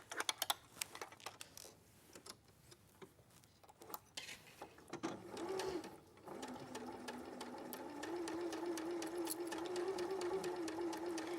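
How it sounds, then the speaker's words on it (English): A sewing machine stitching fabric around a dog coat, starting with ticks and short bursts before settling into a steady, continuous whirring run at close range. "I'm going to just sew all the way round here."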